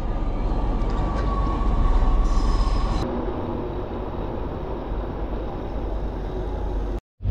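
A train rumbles steadily and loudly at Bordeaux-Saint-Jean station, with broadband rail noise and a faint high squeal, continuous and near, ending in an abrupt cut.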